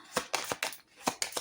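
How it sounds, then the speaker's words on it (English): Tarot cards being given a quick shuffle, with several soft riffling bursts in a short uneven rhythm, close and fairly quiet with no talking. "I had a pre-shuffle, so we'll just give it a little fast shuffle here."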